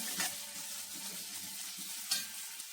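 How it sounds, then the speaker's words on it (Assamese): Spices sizzle softly in hot oil, a close, even crackle with a couple of brief scraping stirs. "ধুনীয়াকৈ মই গোন্ধ যোৱালৈকে ভাজি ল'লোঁ"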